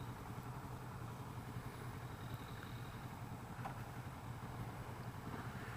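A 2015 Kawasaki Vulcan S motorcycle engine idles: a steady, low, even rumble held at a constant level throughout, heard close with faint wind noise and no talk.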